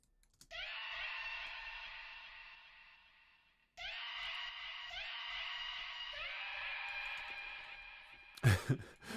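Two long, drawn-out screams from a sample in a song project, each descending gradually in pitch over several seconds, followed by a brief loud burst at the end.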